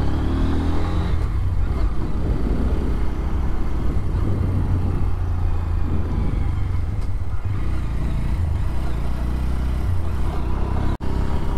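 A Bajaj Pulsar N125 motorcycle ridden in first gear, its engine droning steadily and close throughout with a low, even hum and a faint clatter.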